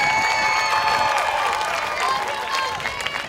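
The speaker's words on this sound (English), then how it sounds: "let's again give a round of applause to your parents and guardians out here who supported you this whole time" Applause and cheering from a graduation audience at HTH High Chula Vista, honoring parents and guardians, a steady dense wash of clapping with crowd noise that fades slightly toward the end.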